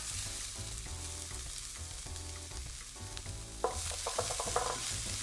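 Chopped onion frying in hot oil as the base for ground beef, a close, steady sizzle with low pan hum underneath, then several sharp clinks and scrapes of stirring near the end.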